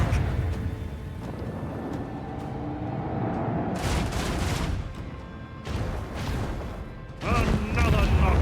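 Macro cannon volleys in Rogue Trader, heavy booming blasts in several separate bursts over a rumbling battle backdrop, with a voice talking underneath.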